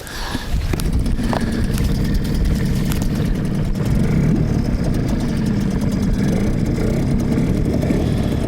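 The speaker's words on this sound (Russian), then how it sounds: "Моторчик просто шепчет." A small outboard motor runs steadily at low revs, a close, even low hum with a faint mechanical rattle and no pauses.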